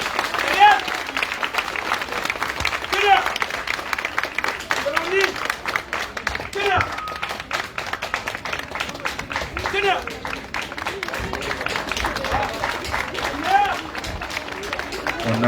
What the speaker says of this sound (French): On applaudit très très fort pour ces élèves-là.